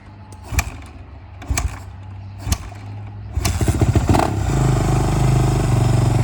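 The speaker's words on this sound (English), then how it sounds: "Let's fire her up." A Kawasaki KX450F dirt bike engine turns over with a few sputtering kicks, then catches and settles into a loud, steady rumble with revving.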